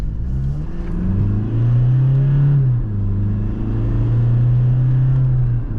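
A 2020 Toyota Revo pickup with a 2.8-litre diesel accelerates, its low engine drone climbing steadily in pitch, easing briefly, then pulling again as a loud, continuous rumble with no talking.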